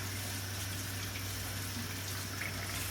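Steady running tap water pours continuously over pineapple being rinsed, a constant even rush with a faint low hum beneath, no voices.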